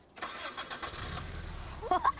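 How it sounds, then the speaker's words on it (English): A car engine cranks with a key and catches, a short starter whir settling into a low idle, with brief voices over it near the end. "Never started a car with a key before."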